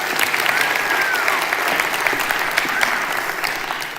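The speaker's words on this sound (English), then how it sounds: "Give her a round of applause." Loud, sustained applause from a TEDx audience fills the space, a dense wash of many hands clapping at once with a faint whistle near the start.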